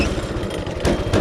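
A small go-kart engine running at a rough, uneven idle, a steady close mechanical drone with slight surges toward the end.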